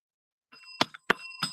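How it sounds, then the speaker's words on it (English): A real handheld bell rung up close, giving three sharp bright strikes, each with a ringing tone that decays quickly, after a brief quiet start. "Oh, wait, you got the real bell?"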